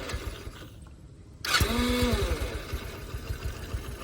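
A Vmoto Baja Monkey motorcycle with 1,283 on the odometer is push-started after a brief hush. Its engine then settles into a quiet, even idle with a soft rhythmic low thrum close by.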